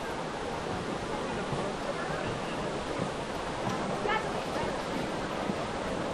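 Steady rushing creek water flows throughout, a broad continuous wash with faint distant voices of people swimming mixed in.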